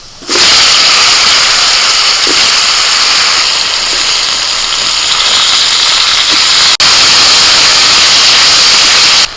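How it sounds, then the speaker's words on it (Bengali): Raw green banana pieces frying in hot oil, a steady, loud broadband sizzle and hiss running unbroken throughout, with a brief dip near the end. "এবার কাঁচকলা ভেজে নেব"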